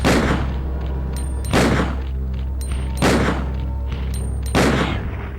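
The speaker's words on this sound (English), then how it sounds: "Just fire your Magnum." Magnum revolver shots fired in the video game Resident Evil 2, four loud, booming blasts spaced roughly a second and a half apart over a steady low game-ambience drone.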